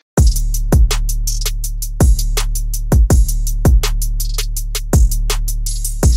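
A programmed beat with booming kick drums and deep 808 bass pulses in a steady repeating pattern, with crisp hi-hat ticks between the hits, loud and upfront.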